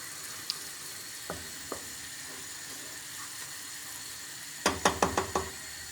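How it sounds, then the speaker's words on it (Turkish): Sugar and water beginning to boil in a pot for caramel, with a low bubbling hiss, a few soft isolated knocks, then a quick cluster of sharp clinks near the end. "Burada şeker ve suyumuz kaynamaya başladı"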